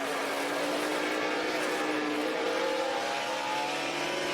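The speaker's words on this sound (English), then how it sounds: "You could hear the RPMs rev up when he got pushed from the back" NASCAR Camping World Truck Series race truck engine revving higher as it is pushed from behind in the pack, a loud sustained roar with rising pitch amid other engines, no voices over it.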